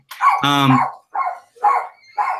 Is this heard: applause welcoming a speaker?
no